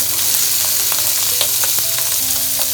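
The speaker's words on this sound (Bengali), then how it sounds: "এখন আমি এটার মধ্যে মাছের মাথাগুলি দিয়ে দেব" Fish heads fry in hot oil, a loud continuous sizzle close by with sharp little spatters and pops, and no voices.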